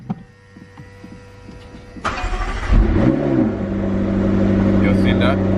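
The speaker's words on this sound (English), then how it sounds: "I'm gonna start the car" A McLaren 650S Spider cranks and fires up with a sharp burst, then rises in a quick rev before settling into a loud, steady idle close by; a voice is heard in the quieter moments before the start.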